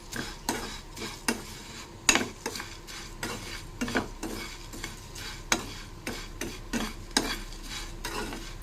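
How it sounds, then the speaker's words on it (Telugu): A snack mixture tossed with salt and chilli powder is stirred in a pan, with repeated scraping strokes and light clinks of a utensil against metal coming in an uneven rhythm, close and moderately loud. "ఇప్పుడు మొత్తం కలిపేస్తానండి"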